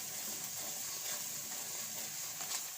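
Chutney cooking slowly in a pan over a very low gas flame gives a soft, steady sizzle with faint bubbling and occasional stirring scrapes, quiet and continuous with no voices.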